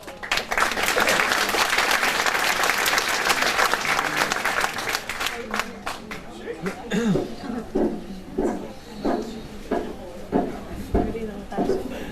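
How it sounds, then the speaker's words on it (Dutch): Audience applause for a children's choir at a Maastricht musical performance, loud sustained clapping from a full hall that thins out into scattered claps, with a few voices and coughs near the end. "Maar uw applaus hebben ze heel nodig."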